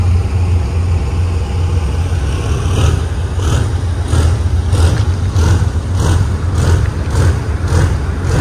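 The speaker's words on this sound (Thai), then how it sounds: "ได้ยินเสียงเบิ้ลเครื่องอยู่เลยครับทางด้านฝั่งนี้นะฮะ GEK4022ครับ" Diesel locomotive GEK4022 of the State Railway of Thailand rumbles with a heavy low engine drone, loud and steady, with rhythmic pulsing bursts as it revs, no voices.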